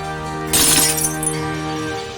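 Glass shatters in a single sharp crash with a brief tinkling tail, a sound effect set against a steady musical drone in a Lego pirate brickfilm.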